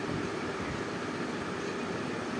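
Inside a moving train running from Howrah to Olai Chandītala near Nabadwip, a steady dense rumble and hiss of wheels and carriage fills the space, constant and unbroken with no voices.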